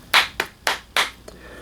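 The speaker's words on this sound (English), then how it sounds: "4 out of 5 claps" Four sharp hand claps in an uneven rhythm, close and fairly loud, with short gaps between them and no talking.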